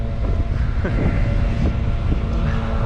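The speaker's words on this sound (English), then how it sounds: "You can probably hear the wind." Strong gusts of wind at a caravan park in Braemar, Scotland buffet the microphone in a constant low rumble, with a faint mechanical drone, from a leaf blower, mixed in underneath.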